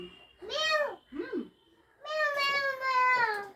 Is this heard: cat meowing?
yes